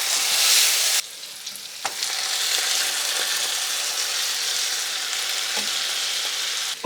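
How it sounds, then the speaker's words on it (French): Stale bread frying in margarine and sugar in a hot pan gives a loud, steady sizzle, briefly harsher at the start, then crackling evenly and close by with no voices. "Et c'est dans ce beau mélange que je vais venir faire cuire mon pain."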